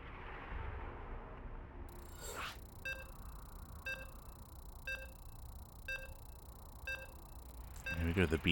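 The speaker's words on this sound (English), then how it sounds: "Here we go, the beeps are upon us." In a StarCraft 2 tournament match, a countdown sounds as six evenly spaced electronic beeps, one per second, clear and bright over a low hum of game background noise.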